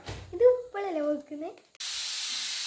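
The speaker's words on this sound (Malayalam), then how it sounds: "ഇത് കുക്കറിന് വിസിൽ കളയുന്നുണ്ട്" After a few spoken words, a pressure cooker whistle bursts into a loud steady hiss of steam that continues without a break until the end.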